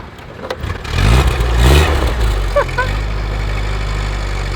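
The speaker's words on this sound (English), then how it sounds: "do you mind if we just go for a quick ride around the village in your absolutely quality Jeep?" Jeep engine rumbling and revving on a ride around a village, a low throaty drone swelling with a couple of throttle surges, then settling into a steady running hum with faint rattles, close and fairly loud.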